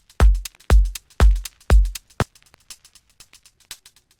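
Two layered shaker loops, one panned left and one right, play four loud, evenly spaced hits, then thin to faint, quick ticking taps.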